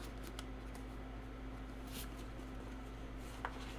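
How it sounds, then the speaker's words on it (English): A large deck of tarot cards being shuffled by hand, quiet close-up riffling and soft card slaps over a faint steady electrical hum, with no voices. "Let's shuffle them because I haven't shuffled them in a bit."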